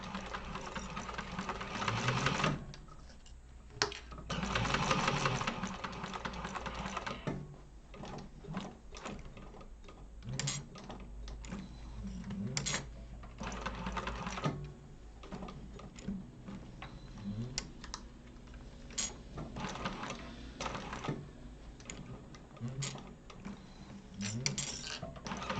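A sewing machine runs basting stitches while a crossbody bag is sewn, giving a soft, steady mechanical ticking and whirring with a few louder stretches throughout.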